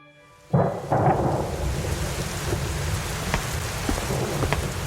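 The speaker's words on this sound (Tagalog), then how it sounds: "Pagsapit ng gabi, biglang lumakas ang ulan" Heavy rain pours down at night in a rural village, opening with a sudden loud burst and rumble of thunder, then settling into a dense, steady roar of rainfall with scattered louder drops.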